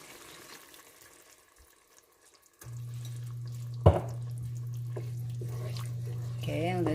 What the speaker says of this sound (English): Now we can pour in our evaporated milk.